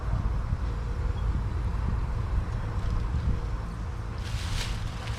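Crappie fillets fry in hot grease with a steady, dense sizzling hiss that holds throughout, near and moderately loud, with no talking.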